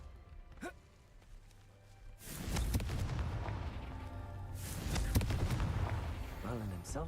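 Confringo explosion spell in a Harry Potter game, a sudden loud blast that rolls into a long crackling rumble and then a second swell of debris noise, with a brief voice heard beforehand.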